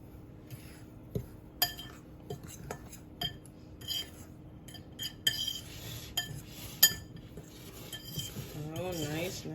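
A fork clinks and scrapes against a bowl while mixing baking soda and salt with flour for jalapeño cornbread, giving close, quiet, irregular taps and stirring scrapes.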